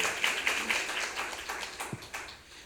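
A forum audience claps at a Korean social economy policy event, light and somewhat distant, with a scattered patter that slowly thins out over a few seconds.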